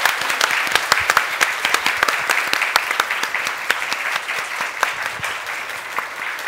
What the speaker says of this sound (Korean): 듣기 어려운 이야기 해주신 장로님께 큰 박수 부탁드리겠습니다.